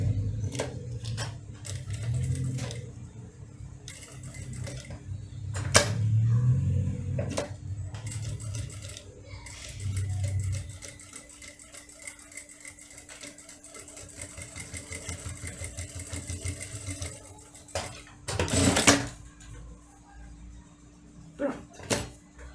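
Domestic sewing machine running a backstitch on a fabric wallet, with short bursts of motor whir and needle clatter broken by pauses and handling clicks, fairly close with no talk.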